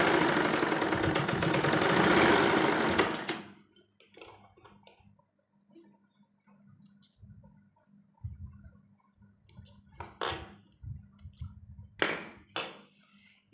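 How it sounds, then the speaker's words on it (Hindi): A sewing machine double-stitching a size 38 kurti opens with a loud, steady mechanical whir for a few seconds, followed by quieter intermittent bursts and clicks as the fabric is handled. "डबल सिलाई लगा लेंगे।"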